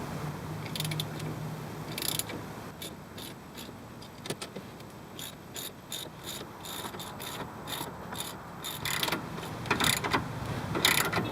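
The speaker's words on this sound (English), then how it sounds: "So now we'll tighten them down until the bushings are compressed a little." Ratchet tightening the nuts on sway bar bushings, a rapid run of dry metallic clicks in repeated bursts with brief pauses between strokes, fairly close, with no talking.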